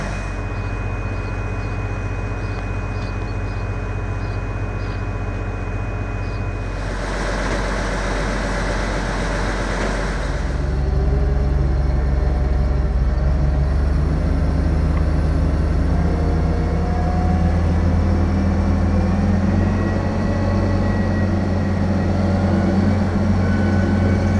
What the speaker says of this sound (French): On emmène le tracteur avec une première remorque.